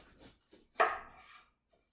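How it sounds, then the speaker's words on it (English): A knife shreds half a head of cabbage on a cutting board: a few soft cuts, then one loud, crisp chop that trails into a brief rasp before quiet. "And then next, we're going to shred our cabbage."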